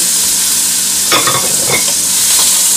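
Onions and garlic fry in a hot pan with a steady, loud sizzle while a utensil stirs them in a short burst of scraping and clattering.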